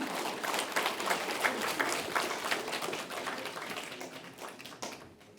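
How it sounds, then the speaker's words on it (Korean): Audience applause welcoming a poet and former culture minister to a literary award lecture: a full, steady burst of clapping from a seated crowd, fairly strong, then fading away over the last second. "여러분, 큰 박수로 환영해 주시기 바랍니다."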